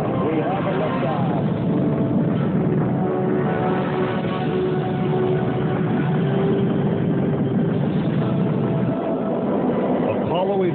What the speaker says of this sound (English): ignition sequence start. 6, 2, 1, 0, all engine running. Liftoff, we have a liftoff.